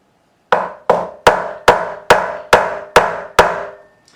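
Hammer driving frets into the neck of a Squier '72 Telecaster guitar, eight sharp, evenly spaced blows in quick succession, each ringing briefly, loud and close with no talk.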